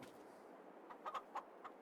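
A few faint, soft clucks from chickens in Farming Simulator 22 sound over a quiet background hiss.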